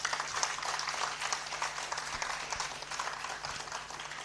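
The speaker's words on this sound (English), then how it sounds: "Shall we give him a round of applause?" Audience applause at an aviation forum in Sri Lanka, a steady, moderately distant patter of many hands clapping that continues evenly for several seconds.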